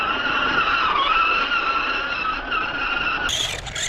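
A Tamiya Blitzer Beetle RC car with a brushless motor drives with a loud, steady, high-pitched electric whine that wavers slightly, then shifts abruptly near the end.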